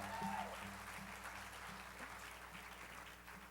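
A keynote audience applauds, with soft, sustained clapping at a distance that holds steady and fades slightly toward the end.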